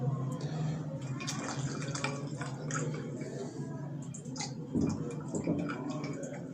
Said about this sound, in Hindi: अब इसमें मैं थोड़ा थोड़ा ठंडा पानी शामिल कर रहा हूँ